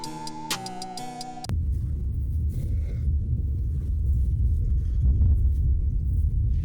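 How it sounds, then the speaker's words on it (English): A deep, steady rumble like distant thunder rolls on for several seconds after a brief tonal sound cuts off. "Do you guys hear the thunder?"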